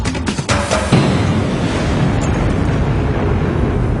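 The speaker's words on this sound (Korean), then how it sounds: "처음에는 한 번의 화산 폭발로 시작됐지만 곧이어 연속적으로 화산이 분출하면서" A Yellowstone supervolcano eruption with a series of pyroclastic explosions: a few sharp blasts open it, then a loud, continuous deep roar rumbles on without a break.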